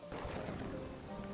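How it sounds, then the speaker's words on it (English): Rain falling in the city-building game Nova Roma, a dense, even hiss of downpour with low rumbling underneath, steady and fairly soft throughout. "Rain's here"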